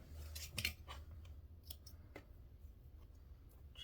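Scissors snip thread tails on a pieced quilt block, a few quiet close crisp cuts and clicks spaced irregularly against a soft room background.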